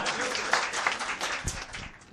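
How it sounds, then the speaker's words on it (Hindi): An audience at a mushaira poetry gathering claps and applauds in a steady patter, moderately distant, with some voices mixed in. "तालियों से इस्तकबाल कीजिए"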